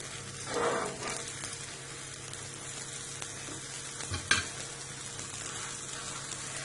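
Makki ki roti sizzles on a griddle as ghee is spread over it: a soft, steady frying hiss with faint scraping and a couple of light taps, close and alone.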